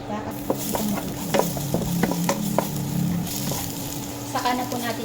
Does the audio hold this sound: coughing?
no